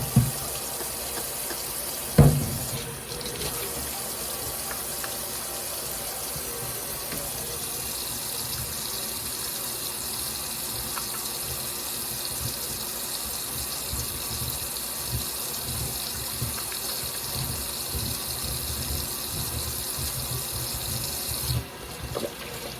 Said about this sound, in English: The first thing I'm gonna do is I'm going to wash my hands.